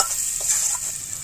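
Egg curry with salt and turmeric being stirred in a pan, a brief burst of close, hissing sizzle with soft scraping, no voices.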